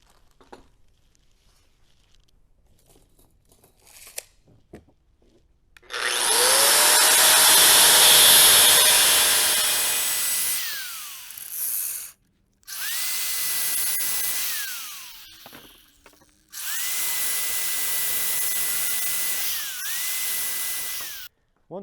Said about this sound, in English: I'm going to use safety glasses and I'm going to cut these in half using a grinder